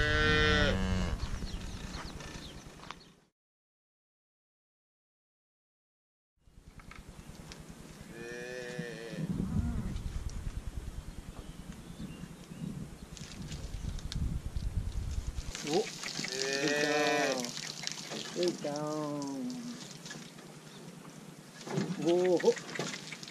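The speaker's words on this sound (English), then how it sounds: "And all the cows are here too." Cattle moo repeatedly on a farm in a tropical setting, several drawn-out calls near and loud, with a short silent gap, people talking over them and hooves shuffling in the background.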